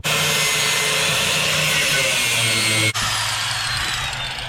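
Power tool grinding and cutting metal while sharpening hay mower blades, a loud, sustained whining drone with a brief drop near the end before it resumes, no talk.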